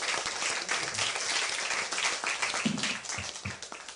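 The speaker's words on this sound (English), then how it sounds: "Another round of applause, please, for Dr. Lehman." An audience applauds a debater during a debate on the historicity of Jesus, a thick, steady wash of clapping from many people that begins to taper off near the end.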